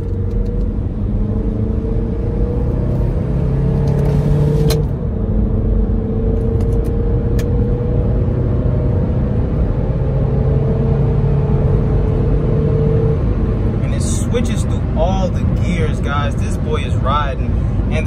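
A used auto-auction car with a check engine light and catalytic converter fault codes accelerates down a long open stretch. Its engine drones steadily and rises in pitch, heard from inside the car with some talk in the cabin.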